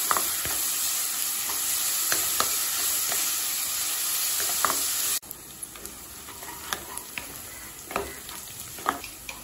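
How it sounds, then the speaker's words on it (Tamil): Onions for a potato curry sauté in a pan with a bright, continuous sizzle and scattered stirring clicks. The sizzle drops noticeably quieter partway through, and the scraping taps continue. "வெங்காயம் நல்லா கலர் மாறுற வரைக்கும் வதக்கிக்கலாம்."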